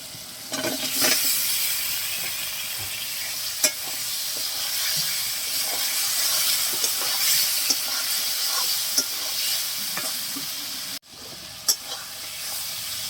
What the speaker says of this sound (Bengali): টমেটো দিয়ে ভালো করে কষাই নিচ্ছি